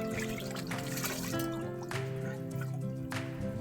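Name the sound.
mountain spring water trickling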